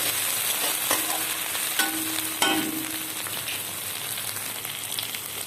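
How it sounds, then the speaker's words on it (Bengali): Chopped tomatoes sizzle in a hot pan for a chicken dish, a continuous close frying hiss broken by a few sharper scraping strokes as a spoon stirs them. "দিয়ে দিলাম টমেটো কুচি কেটে রাখা টমেটো আমি দিয়ে ভালো করে নাড়াচাড়া করে নিচ্ছি"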